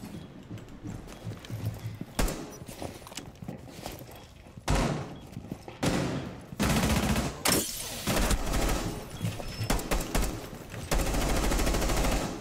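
Gunfire rattles at a wall in Rainbow Six Siege, loud clattering bursts and rapid shots arriving in irregular clusters, with heavy thuds and impacts between them close by.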